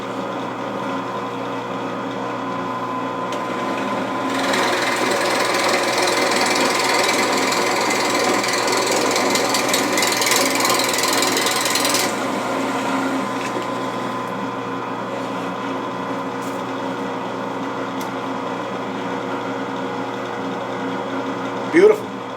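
Bauer 10-inch drill press running at 630 RPM, a steady motor hum that thickens into a louder, rougher grinding for several seconds as the bit bores through a 2x4, then settles back to the plain hum before a short clunk.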